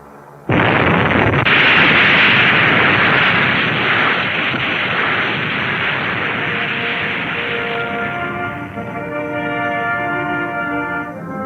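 An atomic bomb test explosion at sea near the aircraft carrier Saratoga, a sudden massive blast swelling into a sustained roaring rumble that slowly thins over several seconds, loud and alone.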